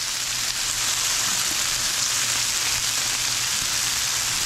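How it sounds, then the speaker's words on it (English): Chicken wings in olive oil sizzling on a Blackstone griddle: a loud, even, continuous frying hiss with a faint low hum beneath, steady throughout. "It's starting to sizzle up."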